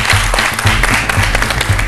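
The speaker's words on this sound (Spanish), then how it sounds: "Un aplauso para ellas." A television studio audience on the Televisa show El Valor de la Verdad breaks into applause, a loud, dense wash of clapping over a low, regular pulsing undertone, running unbroken for under two seconds.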